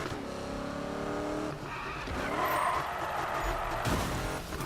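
Need for Speed 2015 car engine revving during a drift, with a high tire squeal partway through, continuous and loud, ending in a sharp burst of skidding.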